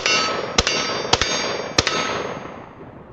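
Bullets striking a Shoot Steel steel target: three sharp metallic clangs spaced apart, each ringing briefly over a steady outdoor hiss, loud and distinct with no talking.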